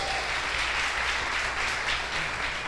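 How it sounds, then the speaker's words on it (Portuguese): An audience in a hall applauds after a talk, with thick, even clapping from many hands that carries on steadily at a constant level from start to finish. "Dá uma salva de palmas."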